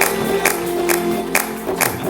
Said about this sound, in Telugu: కొట్టండి, గట్టిగా చప్పట్లు కొట్టండి.